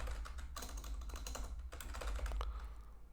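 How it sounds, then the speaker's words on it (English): Rapid typing on a computer keyboard, a dense run of quick clicky keystrokes with brief pauses, close and moderately quiet over a low steady hum. "If I press I again, I type in hello world"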